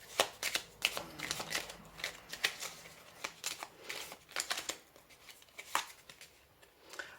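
Tarot cards shuffled by hand during an astrology reading, a quick run of crisp riffling flicks and soft slaps in uneven bursts, close and fairly quiet, with no talking.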